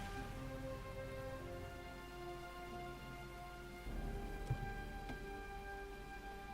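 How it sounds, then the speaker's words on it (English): Steady rain pours in Heavy Rain, the video game, broad and continuous under a sustained musical drone, with a louder swell near the end; no thunder stands out. "Rain now in excess of 2 inches."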